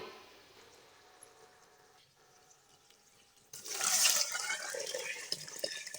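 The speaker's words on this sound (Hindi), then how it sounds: "पानी ऐड करने लगे हैं हम। पानी वही वाला ऐड करने लगे जिसमें हमने चने उबाले थे।" Water left from boiling chickpeas is poured into a pot of chana pulao, a sudden loud rushing splash after quieter kitchen sounds, continuing steadily to the end.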